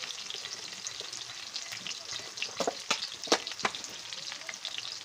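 Chopped ginger sizzles and crackles in a hot wok for a chicken curry, with a steady frying hiss and sharp pops clustering in the middle, fairly close with no talking.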